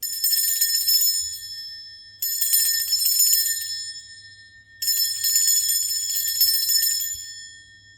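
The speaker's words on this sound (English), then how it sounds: "I am going to be ringing a bell." A small bell, rung to cleanse a space, strikes three times with a bright, high, shimmering tone, each ring decaying slowly before the next, clear and alone against a faint low hum.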